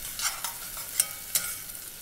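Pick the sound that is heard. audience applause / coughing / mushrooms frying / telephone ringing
mushrooms frying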